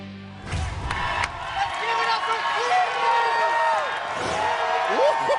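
A hometown crowd at an American Ninja Warrior qualifier in Cleveland cheers and claps steadily in a roar that swells and holds, with a commentator talking over it.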